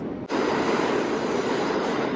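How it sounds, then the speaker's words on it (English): A train passes nearby, starting suddenly as a loud, dense rumble of rolling wheels and rushing noise that stays steady and continuous, with no talking. "Hold, train coming."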